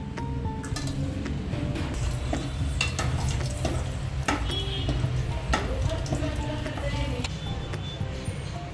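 Cashews fry in hot oil until golden brown, a soft steady sizzle broken by frequent clinks and scrapes of a stirring spoon against the pan.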